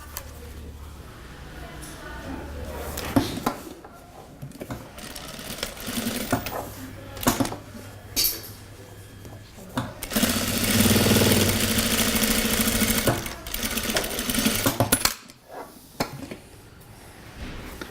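An industrial sewing machine stitches a straight seam joining two pieces of fabric, running in repeated fast whirring bursts with a sustained stretch near the middle, while a person talks between runs.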